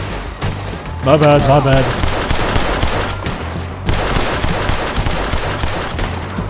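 Gunfire from Red Dead Redemption, a steady run of sharp shots and bursts that keeps going through the clip beneath loud game noise, with a voice talking briefly over the shooting.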